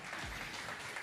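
An audience at an MMA weigh-in ceremony before the Silesian MMA 11 gala claps in a short, moderately loud burst of applause, heard on its own without talk.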